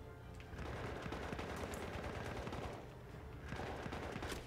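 Burst-fire gunfire in Battlefield 1, with steady, dense shooting close by throughout, layered over heavy battlefield din with no talking.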